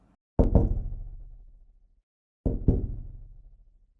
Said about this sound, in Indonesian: terdengar suara ketukan pelan di kaca